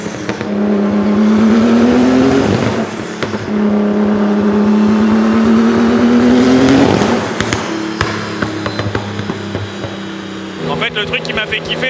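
Renault RS01 Pikes Peak race car engine on a dyno, loud revving pulls that climb steadily in pitch, two long runs with a short break, then a rough lumpy idle with crackles, with voices talking over the end.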